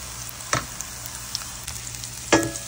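Dried red chillies sizzle in hot oil with shallow greens being fried for a Bangladeshi three-mixed saag bhaji, a steady faint crackle under two sharper bursts of spitting.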